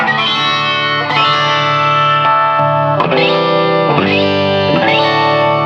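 Clean electric guitar chords with the chorus effect switched off ring out one after another, each strum sustaining before the next, loud and close with a dry, unmodulated tone.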